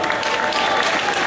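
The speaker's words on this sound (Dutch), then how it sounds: "uw applaus voor beide heren, Lloyd en Elroy" Applause for two boxers, Lloyd and Elroy, after a decided bout, a dense steady wash of clapping from a crowd filling the whole moment without a break.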